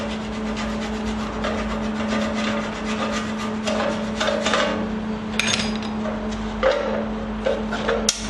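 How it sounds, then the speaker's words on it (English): Metal strips for a Welbike build scraped clean of paint, a run of rasping rubbing strokes with a few sharper scrapes and clinks near the end, close and fairly quiet, no speech. "Clean a little bit of paint away."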